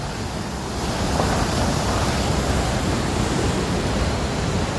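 A flooded river, the Rivière de Déhé in Guadeloupe, swollen during Cyclone Fiona: a steady, loud, broadband roar of rushing water, continuous and close, with wind buffeting the microphone and no voices.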